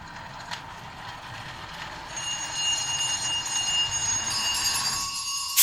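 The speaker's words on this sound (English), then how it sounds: "Every bell in the house must be going." Every bell in a house ringing at once as a stage sound effect in a Christmas Carol show, in Scrooge's chamber: a bright metallic jangle that swells after a couple of seconds and keeps clanging steadily, with no voices.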